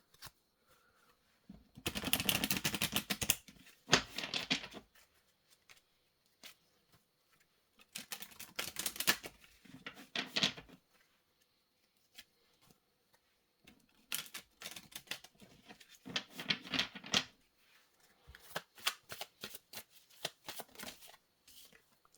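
Deck of cards shuffled by hand, several bursts of rapid riffling and flapping separated by quiet pauses, close and crisp with soft handling sounds between.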